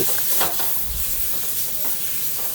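Boiled eggs stirred in hot coconut oil with spices, a dense continuous sizzle and crackle with stirring scrapes, loud and close, no talk.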